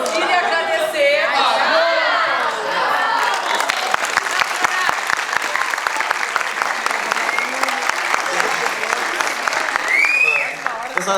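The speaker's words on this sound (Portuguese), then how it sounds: "Vamos aplaudir e agradecer." Audience applause at a cultural debate event in Camaquã, a loud sustained crowd clapping with scattered sharp claps, with people speaking at the start and chatter mixed in.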